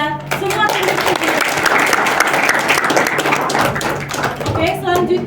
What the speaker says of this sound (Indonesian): beri tepuk tangan kepada semua tim diskusi